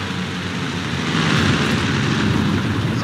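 A loud German tank engine from the video game War Thunder roars steadily and densely throughout, swelling slightly partway through, with no talking.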